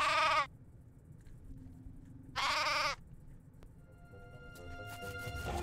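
Sheep bleating in the video game Craft The World, two short loud bleats separated by quiet, followed by soft chiming game sounds.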